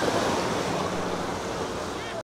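Ocean waves break in a steady continuous wash on Canasvieiras beach in Florianópolis on a hot summer day, with wind buffeting the microphone throughout.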